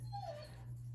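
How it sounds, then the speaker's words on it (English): A pet dog gives a brief, soft whimpering whine close by, rising and falling once over a steady low hum. "that's my dog."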